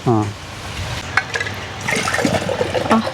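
Tender coconut water poured and splashing into a container, a gurgling liquid pour under close talking.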